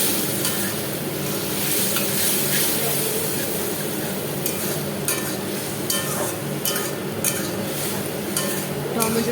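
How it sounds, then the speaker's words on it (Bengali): Tomato puree and potatoes sizzle steadily in a pan as they are sautéed, with a spatula stirring and scraping against the metal throughout. "এটাকে ভালো করে একটুখানি কষিয়েও নিতে হবে।"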